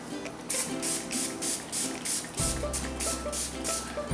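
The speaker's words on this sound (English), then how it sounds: "So then I'm going to spray it with the isopropyl alcohol." Repeated short hissing sprays of isopropyl alcohol from a pump bottle onto soap, about eight bursts in a steady rhythm, close and fairly loud, with a low mechanical hum in the second half.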